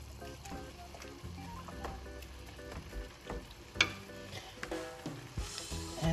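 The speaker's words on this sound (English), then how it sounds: "And then you're just gonna stir your sauce." Cream sauce is stirred in a pot, giving quiet, irregular scraping, clinking and bubbling sounds close by, with a few sharper knocks scattered throughout.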